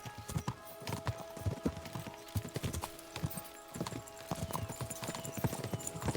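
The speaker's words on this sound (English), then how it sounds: "We should spur the horses on." Horses in the medieval video game Kingdom Come Deliverance II gallop with rapid, rhythmic clip-clop hoofbeats, several animals close together, steady throughout over a faint tonal hum.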